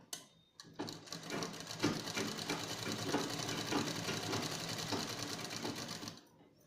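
A sewing machine stitches a tie-string frock in a steady, rapid mechanical run that starts after a short pause and continues for about five seconds before stopping. The machine is close and fairly loud, with no talking.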